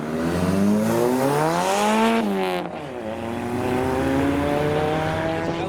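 A loud Jaguar X-Type at a car meet, its engine note rising and falling as it drives close past in one sustained pass, the exhaust rasp dominating the scene.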